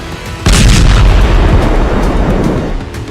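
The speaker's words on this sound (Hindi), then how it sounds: "और फिर कुछ सेकंड बाद हुआ दूसरा धमाका।" A bomb explosion strikes a village in southern Lebanon, a sudden heavy boom after a quiet moment that rolls into a long, loud, rumbling roar and slowly fades, far off but powerful.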